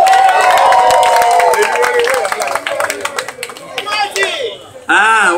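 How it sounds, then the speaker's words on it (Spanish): A wedding audience claps and cheers for a presenter, with dense, loud applause and shouting voices at first that thin out, then a brief burst of cheering near the end. "vamos a dar un aplauso"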